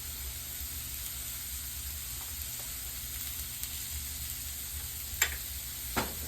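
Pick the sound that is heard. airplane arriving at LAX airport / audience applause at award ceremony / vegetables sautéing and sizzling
vegetables sautéing and sizzling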